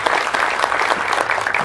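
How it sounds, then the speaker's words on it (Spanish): An audience applauds at a public presentation in Tecámac, Mexico, a dense, steady burst of clapping from many hands filling the whole short stretch. "nos demos un aplauso por esta extraordinaria exposición"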